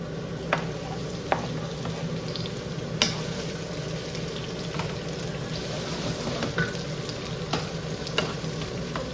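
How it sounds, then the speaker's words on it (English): Vegetables sauté in hot oil in a pan, a steady low crackling sizzle with a few sharp clicks and pops scattered through, close by and fairly quiet, no voices. "And the vegetables I'm going to saute."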